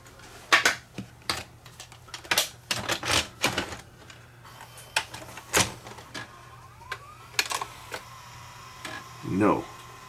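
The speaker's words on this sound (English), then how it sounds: "Let's just plug it in and see whether it will eject the tape this time." A JVC HR-S9911 VCR with a newly fitted belt tries to eject a stuck tape: a string of sharp mechanical clicks and clunks at an irregular pace, ending in a short rising motor whir. Voices are faintly present.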